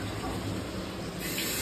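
Tap water runs steadily into a kitchen sink while something is rinsed, a brief continuous splashing rush.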